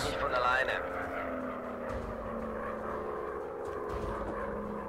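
WW1 fighter plane engine held at full throttle in the VR game Warplanes WW1 Fighters, a steady droning propeller hum with a sustained tonal whine, fairly faint beneath a person talking.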